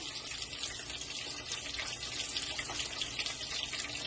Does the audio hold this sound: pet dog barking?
no